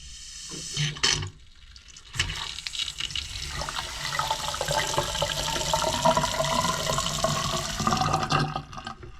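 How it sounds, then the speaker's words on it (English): Water runs from a newly installed bathroom vanity faucet fed by PEX piping, starting after a few clicks of the handle and then flowing steadily and fairly loudly into the sink basin before shutting off. "we shall run the faucet"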